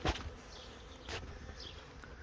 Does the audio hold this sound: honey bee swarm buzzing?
yes